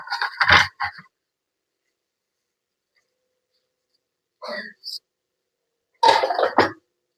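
A child coughs in three short, separate bursts, with long silences between them, close and fairly loud, in a home.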